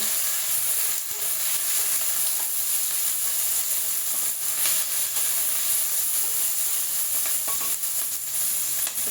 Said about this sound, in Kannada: ಟೊಮೊಟೊ ಹಾಕೋಣ, ಫ್ರೈ ಮಾಡೋಣ.